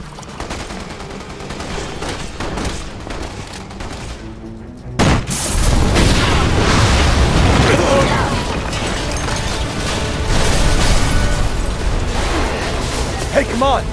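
A sudden blast from a gas explosion in Resident Evil 6 bursts out near five seconds, followed by sustained loud roaring, gunfire-like crackle and rumbling chaos through the rest of the scene.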